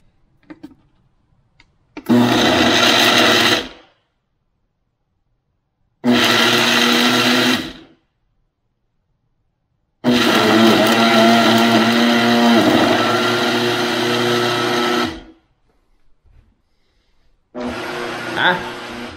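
A blender loudly whirring through strawberries, blackberries, blueberries, banana and oats in several bursts of a few seconds each, separated by silent pauses.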